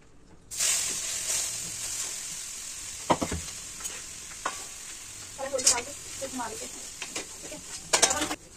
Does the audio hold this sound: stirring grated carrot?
yes